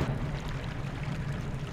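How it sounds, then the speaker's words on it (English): Flowing water in the video game Zelda: Twilight Princess, a steady broadband rushing wash that continues without a break, fairly loud and close. "It's water! It is flowing!"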